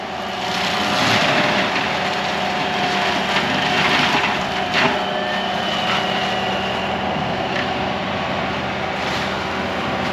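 A stump grinder chews into a cedar tree stump outdoors, its engine giving a loud, steady droning roar that holds evenly for the whole stretch, fairly close, with no speech.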